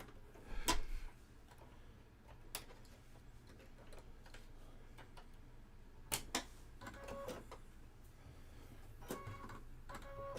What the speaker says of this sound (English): I'm going to change my bobbin because I might have had enough to do my project